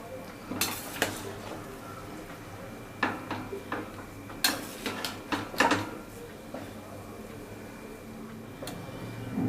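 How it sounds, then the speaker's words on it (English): A spoon scrapes and clinks against a pressure cooker while chicken biryani rice is stirred, a series of close metallic taps and knocks in irregular clusters over a quiet background. "I'm just going to give it a stir"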